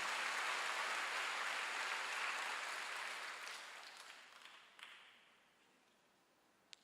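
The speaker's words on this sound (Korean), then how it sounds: "박수로 하세요." A church congregation at a Wednesday worship service applauds in a broad wash of clapping that starts loud and steadily fades over several seconds, with a few scattered claps near the end.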